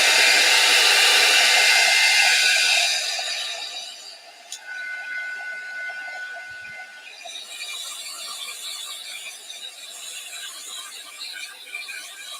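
Hair dryer blowing on a napkin craft: a loud, steady whirring roar that drops to a lower, quieter setting partway through and keeps running to the end, with a faint click in the middle and no talking.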